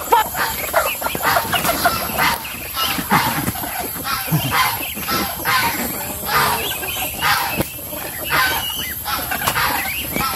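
Ducks and geese in a farmyard pen, a busy mix of repeated honks, quacks and clucking calls, loud and close, with occasional voices in the background.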